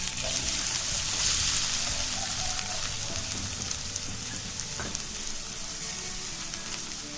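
Chopped onion pieces fry in a pan for a potato and pea curry, giving a steady, full sizzle that fades slightly over time, with no talking.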